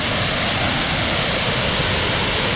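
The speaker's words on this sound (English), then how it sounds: "Oh, there's more waterfalls on this side." Waterfalls at a river overpass in Hilo, Hawaii roar with a steady, dense rush of falling water, loud and constant throughout with no voices.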